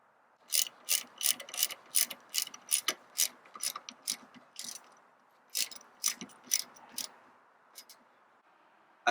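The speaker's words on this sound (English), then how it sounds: "I'm gonna go with my torque wrench. I'm gonna torque it down to 26 foot-pounds," A torque wrench ratchets brake line bolts tight on a steel braided brake line install, giving a steady series of close, crisp clicking bursts with short pauses between strokes.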